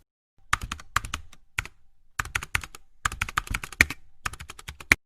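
Crisp clicks of typing on a computer keyboard, close and clear, arriving in quick clusters separated by short pauses, with no one speaking.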